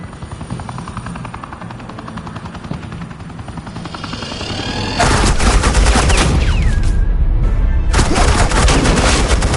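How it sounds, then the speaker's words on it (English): Sustained automatic gunfire from Agent Quinn laying down suppressing fire in Batman: The Enemy Within, starting abruptly midway as a loud dense burst over a helicopter-like rotor rumble, with brief pauses and a ricochet-like whine. "suppressing fire"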